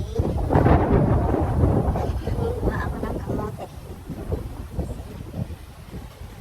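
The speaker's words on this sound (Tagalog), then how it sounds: "Kasi umuulan." Rain falls outdoors on a farm with rolling thunder rumbling loud and close at the start, then fading under a steady patter and wind, while a person speaks briefly over it.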